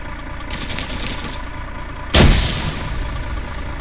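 A frag grenade detonates in a military video game mission set in Colombia. A single sharp, booming blast rises suddenly over ongoing background battle noise and rumble, then decays over about a second.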